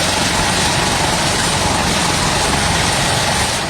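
Air force helicopter unloading earthquake relief supplies at a field in Manggarai, eastern Indonesia: a loud, steady roar of engine and rotor wash fills the whole stretch, close and unbroken, with no voices.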